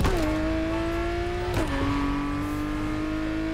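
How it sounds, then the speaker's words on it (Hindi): A Ford Mustang GT500 in The Crew Motorfest drives through a forest, its engine droning loud and close with a steady tone that steps through an upshift and settles into a sustained cruise. "अब जंगल में अपन मस्टैंग चलाने वाले हैं"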